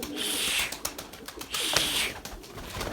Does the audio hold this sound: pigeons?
yes